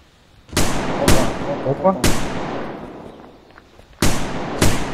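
Several sharp gunshots in the Unturned video game on the Chernarus map, two close together, a third, then two more after a pause, each with a decaying tail, while players talk briefly.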